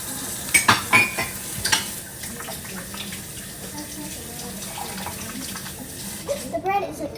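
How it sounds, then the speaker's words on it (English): A cup is washed at a sink, with running tap water, scattered clinks and splashes, and faint voices in the background near the end. "So we're gonna go to the sink. I'm just gonna wash it."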